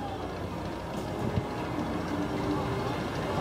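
A low rumbling rush of a long roller coaster train rolling along its track at Six Flags New England, with a faint clack or two, steady and moderately distant.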